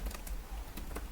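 Typing on a computer keyboard while writing a script in PowerShell ISE, a short run of uneven, close key clicks with no talking.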